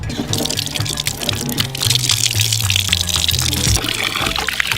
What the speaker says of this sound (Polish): zaczynamy napełniać naszą wannę wodą